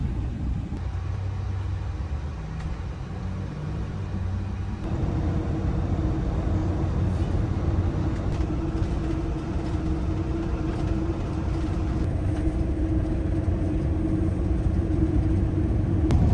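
A vehicle travels down a Wyoming road, heard from inside as a loud, steady low rumble with road and wind noise that deepens and thickens partway through, continuing without break.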